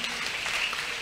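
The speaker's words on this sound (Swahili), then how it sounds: "Tuwapigie makofi mazuri." Church congregation applause at an archdiocese gathering, a dense steady wash of many hands clapping, moderately loud and even, with no pauses in the brief stretch heard.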